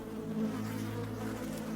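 Flies buzzing around a dead calf, a steady close-up insect drone that holds without break, with no voices present.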